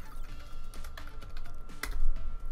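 Someone typing on a computer keyboard while naming a scene in SketchUp, a quick run of close, crisp clicking keystrokes with a slightly stronger final press near the end.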